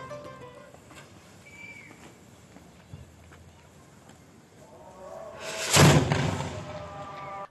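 A single heavy boom of an iftar cannon bursts out against a busy background of crowd noise, loud and broad, then slowly fades.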